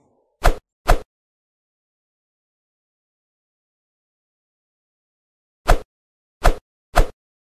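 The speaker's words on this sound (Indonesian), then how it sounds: "Setelah kita kerok ini buah, kita tuang ke baskom." Scooped fruit balls dropping into a basin, five short separate plops, two close together, a long silence, then three more in quick succession.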